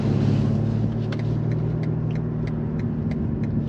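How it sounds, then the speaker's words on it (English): A 2022 BMW M5 Competition LCI sedan turns around on a track, its engine holding a steady, close, low rumble without sharp revving. "I'm currently turning around and let's see how agile this M5 Competition LCI is"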